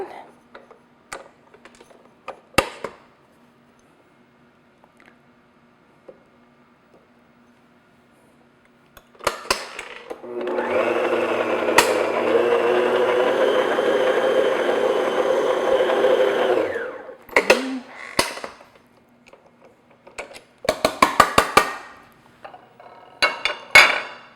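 An electric mixer beats chocolate cheesecake batter in a mixing bowl, whirring loudly and steadily for about seven seconds between quieter clinks and handling noises.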